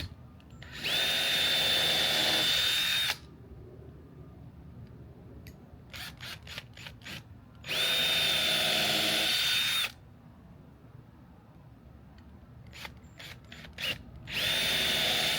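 A power drill whines through three separate bursts of a couple seconds each, drilling pilot holes in wood for deck cable railing, with clicking and handling noises in the quiet gaps between.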